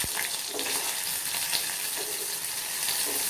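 Onion frying in oil in a pan, a soft continuous sizzle with light occasional stirring taps, fairly quiet and without speech.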